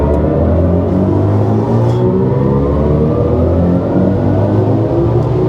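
A BMW i5 M60 electric sedan at full throttle on the Autobahn, giving a steady, loud cabin drone and rumble with a continuous rising whir and wind roar that holds unbroken throughout.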